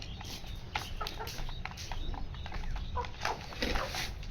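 Quail kept in cages at home give soft, scattered clucks and chirps over a quiet room, faint and intermittent, with occasional light rustling and no speech.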